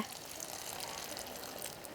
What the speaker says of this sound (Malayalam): മുരിങ്ങക്കായ വെന്ത് കിട്ടാൻ വേണ്ടി കുറച്ച് വെള്ളം ഒഴിച്ചു കൊടുക്കണ്ടേ